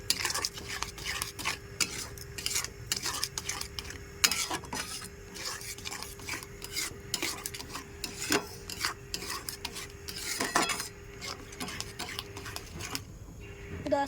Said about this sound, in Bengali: খুব ভালো নেড়ে নেব।